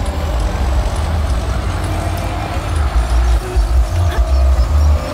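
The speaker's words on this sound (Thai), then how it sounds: "เสียงเบรกก็ลั่นเสียงรถเกี่ยวก็ลั่นมาดิ" Truck brakes and a rice harvester in a Farming Simulator 19 field, heard as a loud, continuous low engine rumble and drone with a steady mechanical hiss on top.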